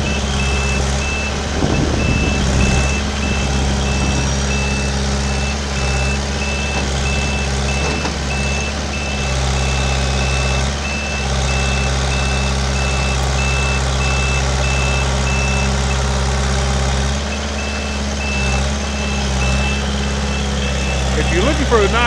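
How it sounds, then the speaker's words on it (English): A Kubota L45 tractor's reversing safety alarm beeps in a steady, evenly spaced series over the low rumble of the idling engine, continuing for most of the stretch before it stops. "And it does have the alarm on it, safety alarm."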